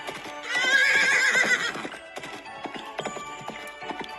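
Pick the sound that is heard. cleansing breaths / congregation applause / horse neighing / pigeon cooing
horse neighing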